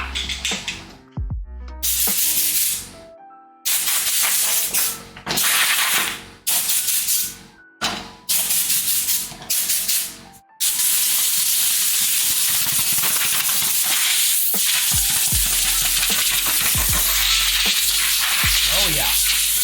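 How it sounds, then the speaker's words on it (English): Compressed air blasts from an air nozzle in loud close hisses, first in short repeated bursts separated by gaps, then one long continuous spray. "Where are you, air nozzle? Come out, air nozzle."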